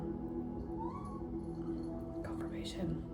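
A pet cat meows in a short, rising call partway through, with a louder cry near the end, set against a steady indoor background hum and a faint voice.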